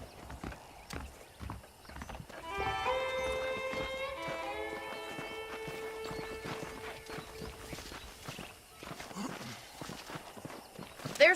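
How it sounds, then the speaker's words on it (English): Horses clip-clopping in the video game Red Dead Redemption, a steady hoof rhythm under music with a brief whinny, moderately close and fairly quiet throughout. "The horses are saddled up over here."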